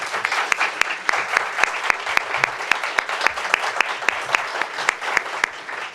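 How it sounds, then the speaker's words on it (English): Sustained applause from the audience at a county superintendent of schools candidate forum, honoring the two candidates; steady dense clapping with sharp individual claps standing out throughout, no talk over it. "I would just like to give a round of applause to our two candidates in advance."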